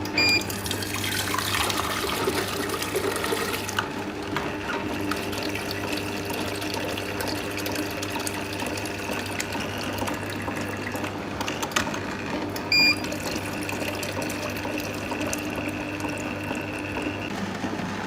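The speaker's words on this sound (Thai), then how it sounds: "ต่อไปก็จะเป็นการล้างเครื่องก็จะกดวอชนะคะ กดไล่น้ำออก" Water flushing out through a three-head soft-serve ice cream machine during washing, a continuous loud rushing and gurgling stream that stays steady for the whole stretch, with no talk.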